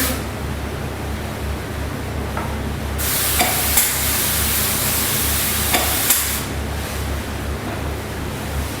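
A cup spray gun applies toner to door faces in a steady, loud hiss lasting a few seconds, set against a quieter background hum.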